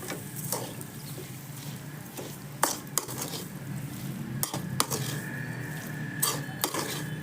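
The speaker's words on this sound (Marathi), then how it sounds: "कोथिंबीर टाकूयात आपण आणि चवीनुसार मीठ टाकूयात आणि हे चांगलं असं मिक्स करून घेऊया" Mashed potato with coriander and salt is stirred and mixed in a metal pot for vada pav filling, with soft repeated scraping and several sharp utensil clinks against the pot, close and moderately quiet.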